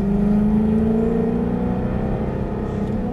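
A Jaguar car accelerates on a race track, its engine a steady close-up drone with a slowly rising pitch and a continuous low rumble, no voices over it.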